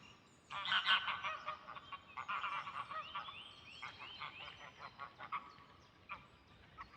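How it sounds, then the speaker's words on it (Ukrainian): Several geese honk loudly and excitedly in a noisy burst in a Danish spring garden, calls overlapping, then trail off into scattered honks against quiet outdoor ambience. "О, прилетіли два гусака. І один гусак, мабуть, і гусочка там. І розкричалися."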